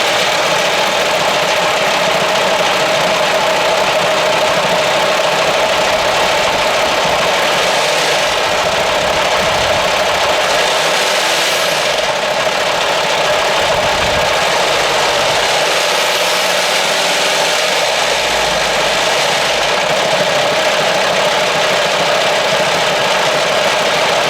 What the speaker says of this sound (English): So what I'll do is I'll pop the bonnet, start the engine. You can hear what that sounds like.